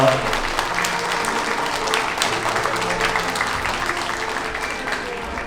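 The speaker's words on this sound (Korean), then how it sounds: "여러분들 큰 박수 부탁드립니다." Loud, sustained applause from a wedding ceremony crowd at the AW Convention Patio Ballroom in Ansan, filling a large hall as the bride and groom bow to the groom's parents, steady and continuous throughout.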